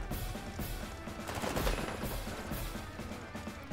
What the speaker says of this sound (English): Attack with my tank first